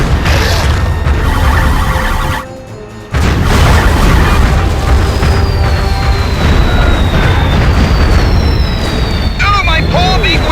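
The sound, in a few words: missile barrage explosions in video game Destroy All Humans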